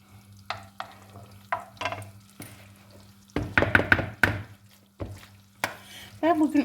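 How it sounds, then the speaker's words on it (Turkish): Oil heating in a pan starts to sizzle, broken by knocks and stirring clatters from a utensil. A low steady hum runs underneath the frying sounds. "Yağımız cızır cızır ses getirmeye başladı."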